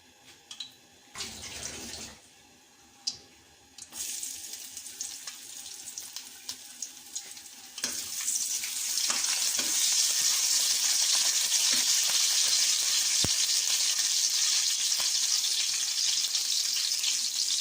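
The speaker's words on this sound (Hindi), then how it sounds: "ऑयल गर्म हो गया, अब हम इसमें अदरक ऐड करते हैं" Ginger dropped into three tablespoons of hot oil sizzles loudly and steadily, a dense frying hiss that swells after a few quieter, choppy moments and then holds strong without any voices.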